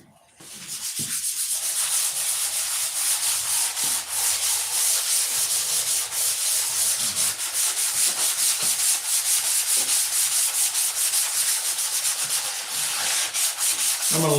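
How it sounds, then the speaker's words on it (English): Continuous sanding on a model aircraft, a loud steady abrasive rub that runs without a break, close up and with no voices. "let's sand it up"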